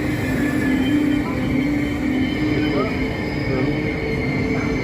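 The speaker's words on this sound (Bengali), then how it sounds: "এই যে ট্রেন আসলো, দোতলা ট্রেন এটাও।" A double-decker train arriving at a station platform in the Netherlands gives a steady, fairly loud mechanical hum and rolling rumble with faint tonal whines, with some talking over it.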